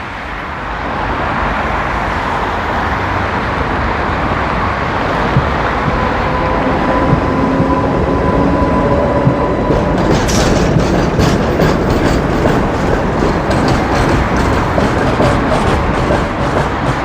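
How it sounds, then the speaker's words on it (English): A TW6000 tram rumbles through a busy intersection amid steady traffic noise, with wheels clattering and squealing faintly on the rails as it passes close by. "Busy tram intersection."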